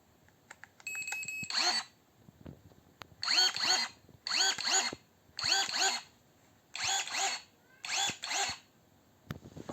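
A cordless electric pruner whirs in short motorized bursts, about seven quick buzzing cuts in a steady rhythm with brief pauses between them.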